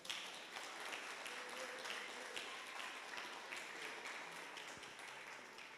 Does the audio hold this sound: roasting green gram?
no